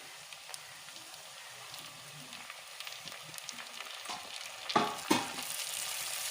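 Chopped tomatoes sautéing with salt and onion in a pan for Chettinad country chicken curry, a constant crackling sizzle with scattered stirring taps, then louder scraping bursts near the end, close and without speech.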